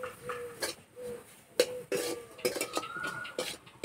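Dry-cooked potato curry being stirred in a pan, with a spoon repeatedly scraping and clinking against the metal in irregular strokes, close and fairly quiet.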